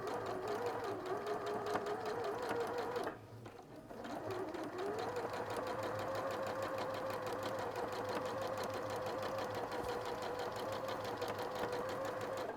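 Domestic sewing machine chain stitching overlapped quilt squares together, a steady continuous whirring hum that stops briefly for a second before resuming at an even pace.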